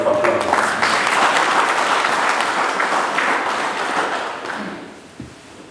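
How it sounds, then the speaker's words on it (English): An audience of provincial government heads applauds the new Minister of State for Manicaland Provincial Affairs and Devolution, a loud sustained burst of clapping that fades out over several seconds. "give him a round of applause"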